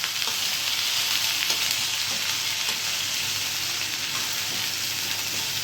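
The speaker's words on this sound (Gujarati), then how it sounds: "હવે મેં આ વઘાર્યું ને હવે ગેસ કરી દઉં છું ધીમો. હવે હું પાછું લસણ નાખીશ." Garlic frying in tempering oil in a nonstick pan for a Gujarati garlic okra dish, a steady close sizzle with light crackles running evenly throughout, with no voices.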